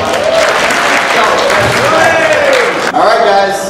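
An audience at an Anime Boston panel claps and cheers in a loud, sustained burst, with voices talking and shouting over the applause.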